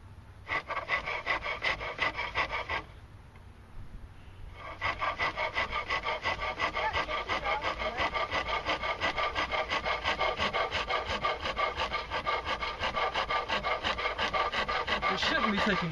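A skew chisel shaves wood on a workbench in long, even, rhythmic rasping strokes, close and steady, with one short pause partway through.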